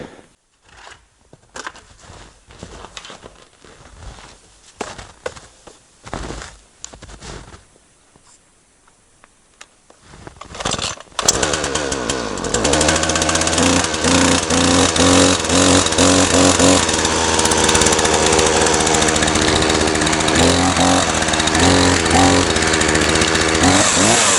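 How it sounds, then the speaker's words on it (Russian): Quiet rustling and knocking in a taiga forest give way to a Champion 241 chainsaw roaring to life, then a loud steady whine as it cuts wood continuously, close by. "Пила Чемпион 241."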